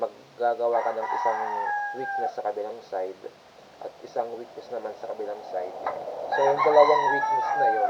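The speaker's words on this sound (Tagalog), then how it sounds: "pasensyahan nyo na yung manok naririnig nyo sa background" A rooster crows and clucks in the background while someone talks steadily in the foreground.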